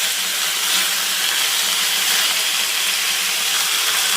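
Tomatoes fry in a hot pan for radish sambar, giving off a steady, even sizzle and hiss that carries on unbroken, close and moderately loud, with no voices over it.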